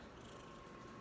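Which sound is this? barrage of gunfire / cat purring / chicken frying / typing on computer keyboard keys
cat purring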